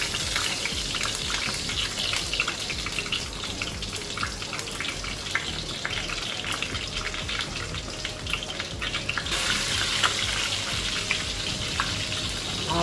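Dried red chilies spit and crackle in hot mustard oil with whole cumin, a dense, steady sizzle close by that holds at an even level throughout, with no talking.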